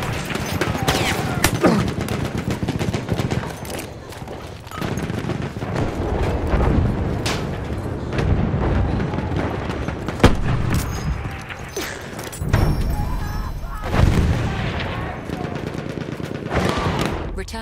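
Machine gun fire and explosions in Battlefield 1 gameplay at Fort De Vaux, with rapid bursts and heavy booms, some near and loud and others distant, over constant battle noise.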